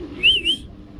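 A cream bar checker racer pigeon gives one short, clear coo that rises and dips, close by over a faint low hum.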